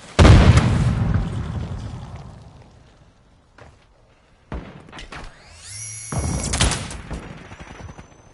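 A concussion grenade explodes in Call of Duty Modern Warfare 2 multiplayer: one loud, close boom with a long rumbling decay into near silence, followed later by scattered pops and a burst of gunfire.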